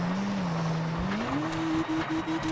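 A race car engine in TOCA Race Driver 3, droning loudly and rising steadily in pitch as it revs up, then holding a high whine broken by brief dips from gear changes, with no voices.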